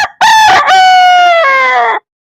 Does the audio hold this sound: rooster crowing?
yes